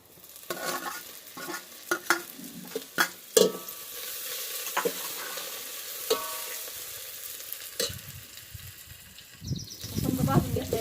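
Garlic frying in a pan for a rural fish recipe, crackling sizzle broken by repeated sharp spatula scrapes and knocks against the pan, close, with brief indistinct voice sounds in between.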